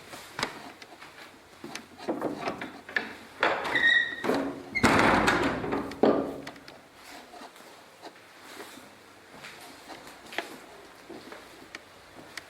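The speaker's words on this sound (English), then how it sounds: "These big oak doors." Big oak church doors being closed, a series of wooden knocks, creaks and clunks with a louder heavy thud and rumble in the middle, then fainter taps and room tone as the handling settles.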